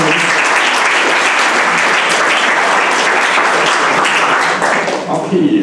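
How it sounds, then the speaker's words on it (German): Steady, dense applause from an audience at an evening show event in the PZ-Forum in Pforzheim, loud and sustained for several seconds before thinning slightly at the end, with no talking over it. "Deshalb nochmal Applaus für den jungen Herrn, dass er vorgekommen ist."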